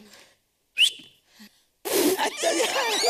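A short, thin human whistle attempt rises briefly amid near silence during a comedy show, followed by a few faint sounds and then lively talk.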